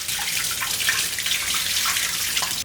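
Rice flakes are washed in water in a kitchen, with close, continuous running and sloshing water and light splashes that stay steady and fairly loud throughout the short stretch, with no talking.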